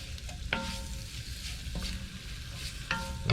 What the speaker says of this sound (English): We'll brown this off. Starting to fry off here now.